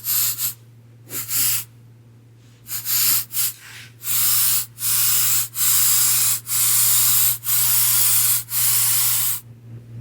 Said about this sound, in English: we're going to use a water-based spray